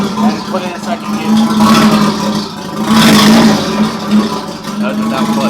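Mazda FC RX-7 engine revving as it accelerates in second gear, a steady mid-pitched drone swelling in two surges, heard from close inside the car with voices talking over it.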